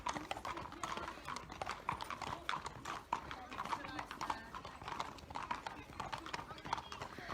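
Many horses' hooves clip-clop steadily as a string of over 40 racehorses circles at a training yard before heading out onto the gallops, with occasional whinnies mixed in and people talking nearby.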